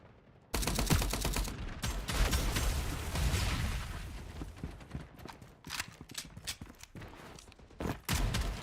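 Gunfire bursts from the FragPunk shooter game: a rapid string of sharp, close shots with thumping impacts, crowded together at first and then spaced out in irregular bursts.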